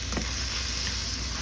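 Onion pieces sautéing in hot oil in a pan give a steady, dense sizzle that stays even throughout, with no voices.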